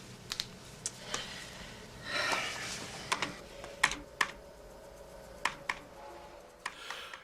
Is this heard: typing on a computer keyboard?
yes